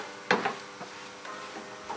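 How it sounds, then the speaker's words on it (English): A spoon scrapes and knocks through samosa filling of mashed potato and chopped coriander in a pan, a few soft scrapes and taps over quiet background. "Now mix this all up really well"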